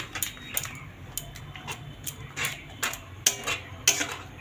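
A spoon taps and scrapes against a pot, giving a series of sharp, close clinks in an irregular rhythm as semolina is stirred into boiling water, with a faint steady hiss beneath.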